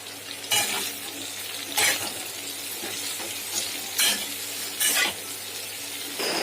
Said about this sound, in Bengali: এরপর আমি দেবো ক্যাপসিকাম, পেঁয়াজটা আধ ভাজা ভাজা করবো